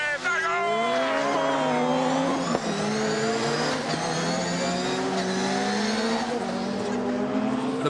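A rallycross car on the Brands Hatch course revs hard and holds near 7,000 rpm before a race-day start, its engine note droning loud and close with a slight waver, while someone talks over it.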